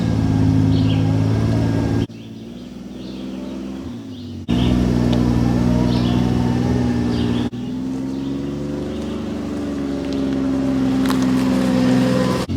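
Kawasaki Mule utility vehicle with top and windshield off climbing a steep slope in 4-wheel drive: steady loud engine drone that dips and surges as the throttle shifts, close and continuous, with no talk.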